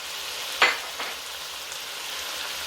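Chopped tomatoes and onions dropped into a hot pan, a sharp burst of sizzling that flares up, hisses again briefly, then settles into a faint steady frying crackle.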